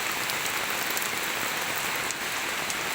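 Steady, dense rain pours down in a forest during a storm, a close, continuous wash of drops on surfaces with no letup and no voices.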